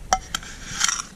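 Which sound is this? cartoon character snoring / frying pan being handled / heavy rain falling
frying pan being handled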